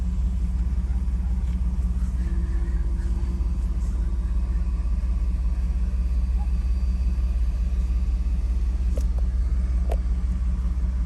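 A flood-damaged Cadillac Allante being driven gives a steady low engine and road rumble, constant and close from inside the car, with no talk over it.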